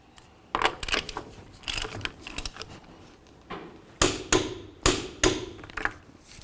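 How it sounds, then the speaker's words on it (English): A torque wrench tightening the axle nut on a 2010-2013 Ford Transit Connect 2.0L gives a run of sharp metallic clicks and clanks, louder and spaced about a second apart toward the end. "We'll torque the axle nut and then all 5 of our lug nuts."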